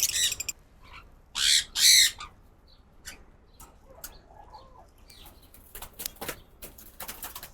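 Bursts of Sun Conure parrot squawking and wing flapping as they are caught by hand and placed in an outdoor aviary cage, two loud flurries early on, then scattered rustling and softer scuffling nearby.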